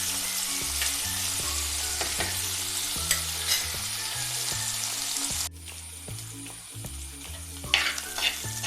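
Ginger, garlic and green chillies sautéing in a pan give off a loud, close, continuous sizzle. Repeated scrapes of a stirring spoon run through it, and the sound drops abruptly partway through before flaring up again.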